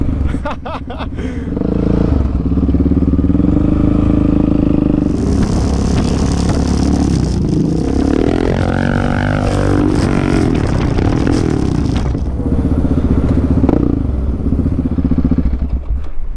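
An ATV engine roars loudly up close as it revs hard during a brief test wheelie, rising and falling in pitch with clattering and scraping from the machine.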